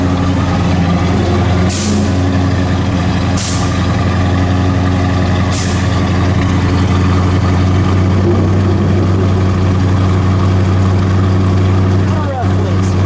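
A 1970 Mercury Cyclone Spoiler with a 429 CJ V8 idles loudly and steadily nearby, a deep unbroken rumble that lasts throughout, with a few faint sharp clicks over it.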